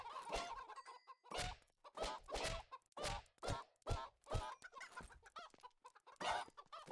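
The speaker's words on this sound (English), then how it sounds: "I don't know why we have these chickens here if Jess has the chicken shop." Chickens clucking in the video game Minecraft, a series of loud, close clucks and squawks in short repeated bursts with brief gaps between them.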